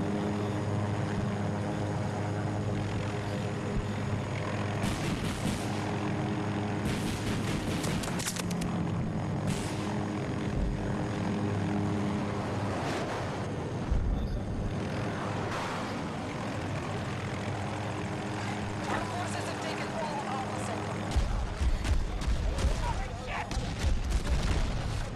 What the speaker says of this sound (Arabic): شو هذا هليكوبتر صح؟